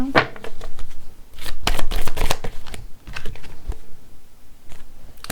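Tarot cards riffled and slid from a deck in a reading, a run of quick papery flutters and snaps in close succession, loud and near, with short pauses between bursts and no talking.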